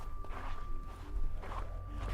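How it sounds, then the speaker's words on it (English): Footsteps crunch along outdoors on a snowy day, several soft, uneven steps at moderate distance over a low steady background hum. "Sound of footsteps."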